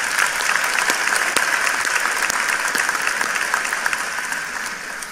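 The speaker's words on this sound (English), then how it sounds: "Let's give them a round of applause, please." An auditorium crowd at a 2019 high school graduation gives teachers a sustained round of applause, a steady, even wash of many hands clapping with no talk over it.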